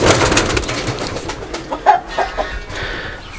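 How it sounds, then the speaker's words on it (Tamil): Pigeons coo close by, with soft, repeated throaty calls and some fluttering over a busy, noisy outdoor background. "பார்த்தீங்களா, அது நம்மகிட்ட வாங்கின புறா."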